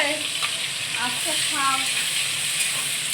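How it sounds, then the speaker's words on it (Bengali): Chopped onions frying in a pan for a fish head kosha recipe, a steady close sizzle and hiss with brief stirring scrapes and faint background voice. "পেঁয়াজ কেটে রেখেছিলাম পেঁয়াজ দিয়ে দেবো"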